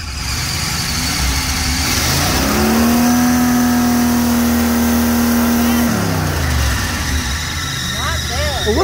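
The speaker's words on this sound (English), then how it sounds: "Rev it up a little bit." A 1987 Cadillac 5.0 V8 idles, then revs up to a sustained high roar for a few seconds before dropping back to idle, loud and close, with a voice talking over it.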